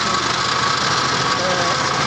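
An animal feed making machine runs steadily beside a truck being loaded, giving a continuous loud mechanical drone with engine-like vibration, unbroken for the whole stretch.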